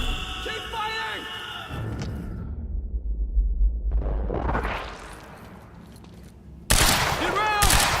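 Gunfire in the video game Quantum Break comes as bursts of shots among deep rumbling booms and whooshing effects, with a quieter lull in the middle before a loud burst returns near the end.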